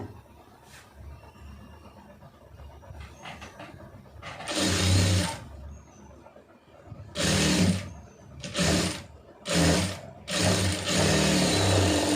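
A sewing machine stitches a blouse lining strip in several loud bursts of rapid whirring, each a second or two long and separated by short pauses, close to the listener.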